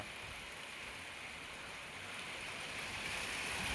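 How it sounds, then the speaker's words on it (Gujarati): Steady, continuous rain over a farming village makes a soft, even hiss at a distance that swells slightly toward the end, with no talking. "સવારનો ઝીણો મોટો એક ધારો વરસાદ ચાલુ જ છે"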